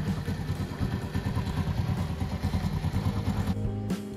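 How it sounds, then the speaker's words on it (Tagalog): A Marvel 125 motorcycle engine idles with a loose clutch rattling like marbles inside, a steady close mechanical clatter that cuts out near the end. "Parang ganito na ba ang tunog? Parang may jolen sa loob."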